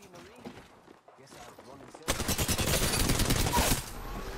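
Apex Legends gunfire bursts into a dense rapid volley of shots midway, loud and continuous for a couple of seconds, following a quieter stretch with a player talking over the game sounds.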